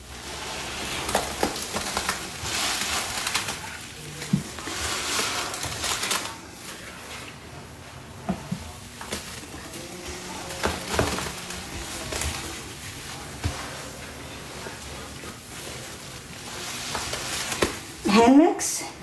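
Hands mix thick laundry suds and soaked sponges in close, wet squelching and fizzing strokes that churn steadily, with a crackling bubbly texture and a sharper splat near the end.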